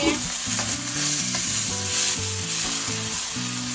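Small prawns fry in a pan for an Indo-Chinese prawn, chicken and corn soup, giving a steady close sizzle with stirring under a melodic background music track.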